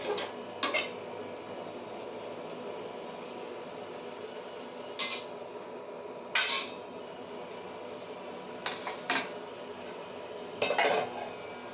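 Utensil scraping and clinking in a cooking pan while cumin and coriander powder are stirred in for lau chingri, a few sharp metallic knocks over a faint steady background hum, close with no talk.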